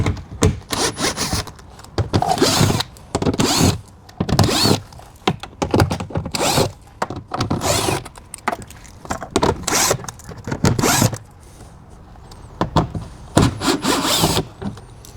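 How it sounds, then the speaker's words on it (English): M10 bolts are unscrewed from the inside of a Mazda CX-3 door, producing a close, rapid ratcheting rasp in repeated bursts with short pauses between them. "now it's time to unmount all these M10 bolts"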